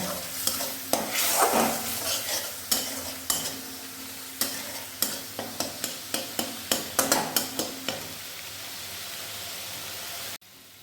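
Stirring and sautéing masala in a pan for sesame paneer: steady frying sizzle with a series of sharp scraping strokes, quickening toward the end before stopping abruptly.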